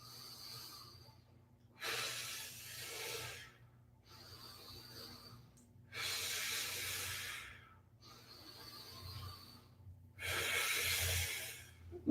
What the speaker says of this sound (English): Just focus on your inhales and exhales.